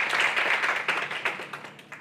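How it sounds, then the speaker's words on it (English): Audience applause for a speaker, a dense burst of clapping that is loud at first and then thins to a few scattered claps as it dies away. "Let's give them a round of applause for being with us."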